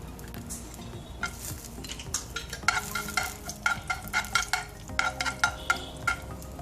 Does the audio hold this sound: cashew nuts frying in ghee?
yes